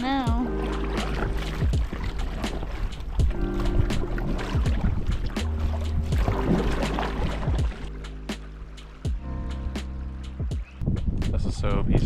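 A kayak paddling on Lake Cowichan, with rhythmic paddle strokes and small splashes repeating at a steady pace up close, while people talk quietly over the water.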